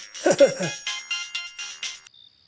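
A phone ringtone plays for a repeated incoming call, with a steady pulsing pattern that stops after about two seconds. A voice speaks briefly over the start of the ring.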